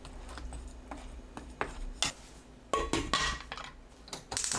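A cooking pot holding round squash and kelp broth clanks as its lid is set on and closed, giving a string of close metallic knocks and clinks of varying loudness.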